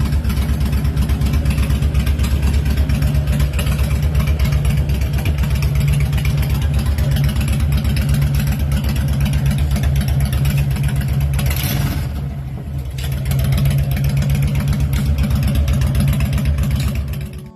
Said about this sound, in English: Its V-twin engine delivers smooth torque with that satisfying